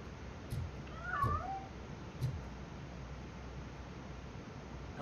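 A cat meows in Robocop Rogue City, one clear rising-and-falling meow near the start followed by a fainter short call, set against a low steady background hum.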